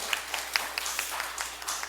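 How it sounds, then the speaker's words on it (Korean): Audience applause at a Democratic Party policy concert in Changwon, a steady round of scattered hand claps from a moderate-sized crowd, lasting throughout. "김지수 위원장님께 다시 한번 큰 박수 부탁드리겠습니다"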